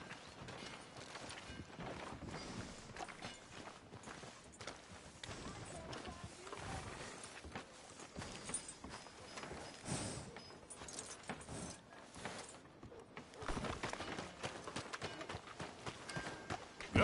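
Horse hooves clip-clop steadily on a street in the Western video game Red Dead Redemption 2, a faint rhythmic patter mixed into dense game ambience and background noise for the whole stretch, without clear speech.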